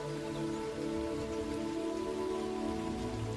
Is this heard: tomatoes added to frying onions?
no